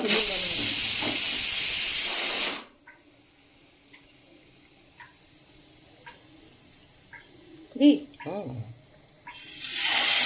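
Chicken drops into hot oil with a loud, harsh sizzle that roars for a couple of seconds and then cuts off. A quieter stretch follows with people talking, then the fierce hiss of frying returns at the end.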